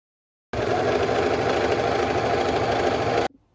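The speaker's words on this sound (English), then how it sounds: "Now I'm taking them to my serger and just overlocking the edges I just cut." A serger overlocking freshly cut fabric edges while sewing a thrifted top, a loud, steady high-speed mechanical whir that starts abruptly, runs without a break for about three seconds, then stops cleanly.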